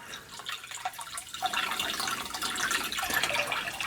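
Water poured into an aquarium fish tank, a continuous splashing and gurgling stream with bright bubbling that builds and stays steady, heard close up without any voices.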